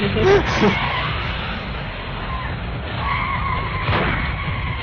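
A car brakes hard and then accelerates, with a short tire skid and squeal up front and another burst near the end. Engine noise runs throughout, and voices talk over it.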